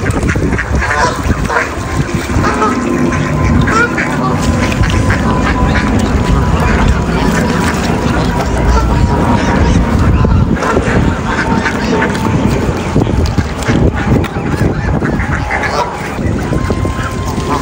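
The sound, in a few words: flock of wild geese and ducks honking and quacking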